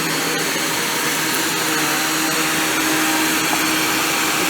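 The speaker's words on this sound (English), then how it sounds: "I'm just going to hoover up this bit of carpet." A Bosch Athlet cordless vacuum cleaner with a motorised brush head hoovers carpet, a loud steady motor whine with a constant hum, droning alone and close throughout.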